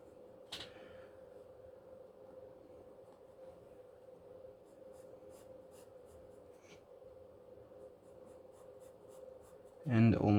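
A pencil sketches a monster's leg muscles on paper, giving soft, continuous scratchy strokes that stay faint beneath a steady electrical hum, with a brief tap near the start and a louder burst at the very end.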